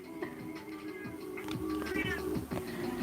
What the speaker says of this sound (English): Whenever she meows like that, she's basically demanding I give her wet food.